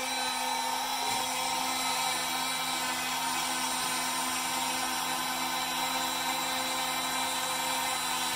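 A power drill bores holes into a clamped part for a Red Special guitar build, giving a steady, loud, high-pitched whine that runs continuously and close up with no talking.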